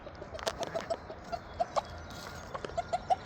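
Several short, sharp sneezes from a chicken scattered over a few seconds, close by, with faint clucking and farmyard rustle between them.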